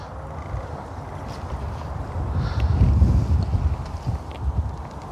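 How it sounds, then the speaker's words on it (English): Steady wind buffets the microphone outdoors at a fishery, a loud, low rumbling roar that swells near the middle and keeps going throughout. "This wind's turned again. It's now coming back in our face."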